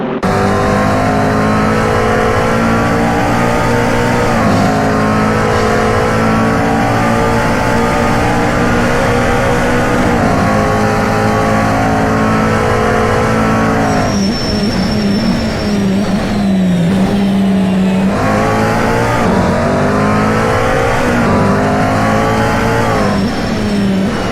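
GT3 race cars at Circuit of the Americas roar loudly down the back straight, engines droning and climbing through gears, with shifts and a passing car near the middle, steady and close throughout.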